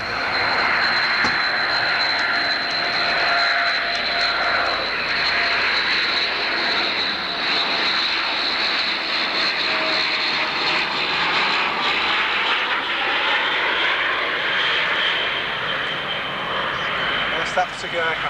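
Steady loud drone of a Vickers Viscount airliner's engines at Manchester Airport, a continuous high whine over a broad roar that shifts slightly in pitch as the aircraft moves, lasting throughout.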